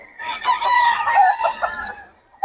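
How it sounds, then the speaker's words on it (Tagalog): A rooster crows loudly and close by, a long drawn-out call with hens clucking around it, and a sharp knock right at the end. "Gaganda ng mga manok dito"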